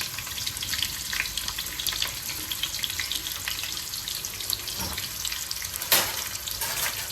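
Onions frying in oil make a continuous crackling, watery sizzle, steady and close with a few louder pops and stirring knocks, and no one speaks.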